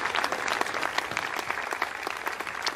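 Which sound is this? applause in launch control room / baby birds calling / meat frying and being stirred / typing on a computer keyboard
applause in launch control room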